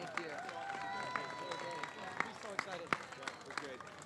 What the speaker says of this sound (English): let's give another big round of applause for our gold medalists here